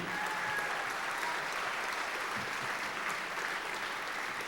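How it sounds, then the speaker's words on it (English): An awards banquet audience honouring sports writers gives sustained, even applause, a dense continuous patter of many hands filling the room. "One more round of applause for all of our state-winning sports writers."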